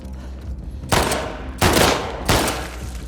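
Gunfire from The Last of Us Part II comes in three loud, sharp blasts spaced about two-thirds of a second apart, each followed by a short rumbling decay.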